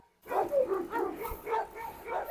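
Several Rottweilers bark in a rapid, fairly close series, a crowd of dogs yapping and whimpering over one another with no talk.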